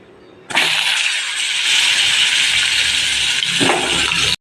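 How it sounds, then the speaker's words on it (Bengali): Pointed gourd (potol) pieces drop into hot oil in a kadai and set off a loud, steady sizzle that bursts in suddenly and holds without a break. "এর মধ্যে পটলগুলো ভেজে নেব"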